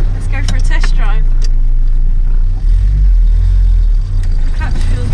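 A Land Rover Lightweight out on a test drive after workshop restoration, its engine giving a loud, steady low rumble close by while a voice talks over it.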